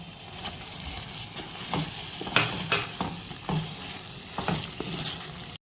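Paneer cubes are stirred into palak in a pan: a soft sizzle runs under a series of scraping stirs and light knocks of the spoon, close and fairly quiet.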